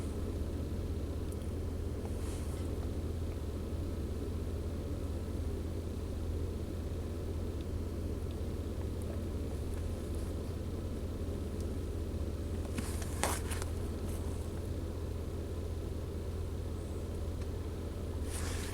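A GM truck engine idles at 640 RPM, a steady low rumble that holds even and unbroken throughout, with faint clicks near the end.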